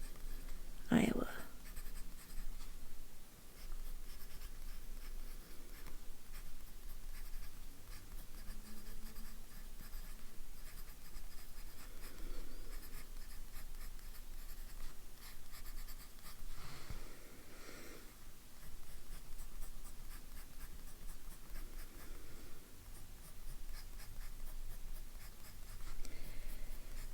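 A fountain pen filled with Sailor 50 States Iowa ink scratches steadily across paper, close and quiet, with a soft whisper-like texture.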